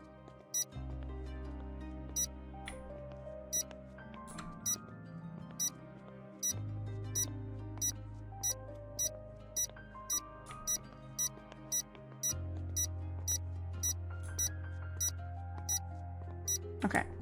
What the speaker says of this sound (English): Looks like it's really kind of beeping a lot around this area.